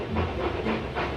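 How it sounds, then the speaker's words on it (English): Toy steam engines chuff in a rhythmic, hissy series of puffs, with steady steam-like noise pulsing about three times across a short span, no talking. "James and Edward puffed into the yard."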